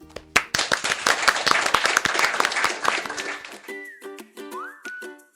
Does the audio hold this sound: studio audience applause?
yes